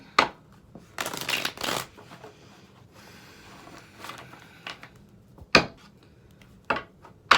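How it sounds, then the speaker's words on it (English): Tarot cards being shuffled close up, quiet riffling bursts and sharp slaps of the deck against a surface, separated by soft pauses. "let's do 3 more shuffles and then we'll get into it"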